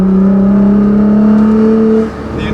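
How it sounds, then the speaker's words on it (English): A 2015 Nissan GT-R with a Meisterschaft exhaust, tune and GFB blow-off valves, its engine droning loud and steady as it pulls through a gear from inside the cabin, then dropping in pitch as the throttle lifts. "This car is loud. Haven't driven a car this loud in a while."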